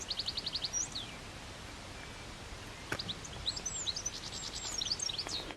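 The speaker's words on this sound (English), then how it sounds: "listen to these birds on this clip" Countryside birds sing at a distance, with a quick run of high repeated chirps followed by scattered tweets and trills over soft rustling ambience.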